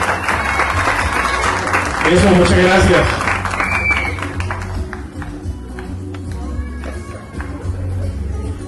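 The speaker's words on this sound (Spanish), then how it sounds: "un aplauso por favor, pero fuerte" A festival crowd at an outdoor event in Duitama, Boyacá claps loudly and steadily, with a stronger burst in the middle and a few shouts, while an announcer speaks over the applause near the end.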